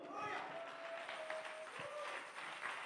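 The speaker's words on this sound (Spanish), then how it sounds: "Denle un aplauso al Señor." A church congregation gives a short, steady round of applause, dense hand clapping filling the hall with a few voices calling out beneath it.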